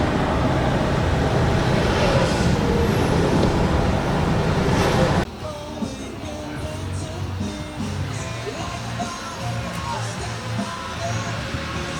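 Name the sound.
road traffic near Atlanta heard from a car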